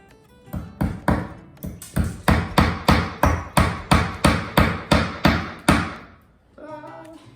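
Hammering nails to fasten up a temporary electrical wire during a wall removal: a run of about fourteen loud, evenly spaced hammer blows ringing close by, then a short pause and faint trailing sounds.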